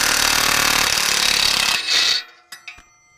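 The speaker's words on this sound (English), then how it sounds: "Power tools are awesome." A power tool rattles hard for nearly two seconds while removing exhaust nuts on a 2017 Camaro RS, then stops, followed by a few sharp metallic clicks.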